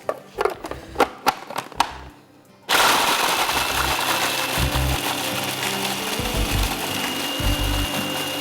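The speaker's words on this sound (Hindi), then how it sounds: "बिस्किट्स चले गए, पीस लीजिए उसको" An electric grinder loudly crushes biscuits into crumbs for a hung curd cheesecake base, starting abruptly after a few scattered knocks and roaring steadily with pulsing low thumps.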